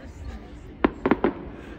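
A fireworks display in Aberdeen heard from nearby, a few sharp bursts popping in quick succession over a quiet outdoor background, with faint voices around.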